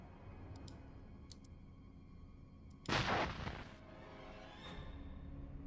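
An explosion goes off in a room where solvents were stored, in the Urban Runner game: a single loud broadband burst of roughly a second that stands out over a quiet ambient background, followed by a fading rumble.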